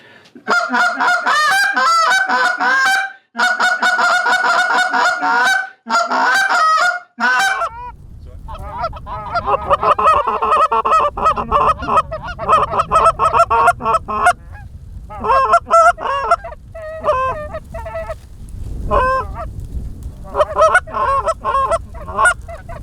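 A call imitates geese with loud, rapid high-pitched honks in repeated bursts, close and insistent, with brief pauses between series.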